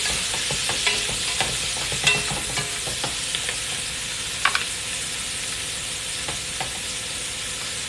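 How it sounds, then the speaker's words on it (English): Sausage browning in vegetable oil in a pan gives a steady, loud hiss of sizzling with scattered sharp pops and crackles, close up and with no talk. "All I did was put my sausage in my pan with some vegetable oil, and I'm browning it up"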